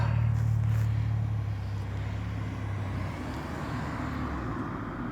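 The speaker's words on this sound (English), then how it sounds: "Cop car." A police car drives past on a road, a steady engine and tyre roar that is loudest at first, with a low hum that fades as the car moves away.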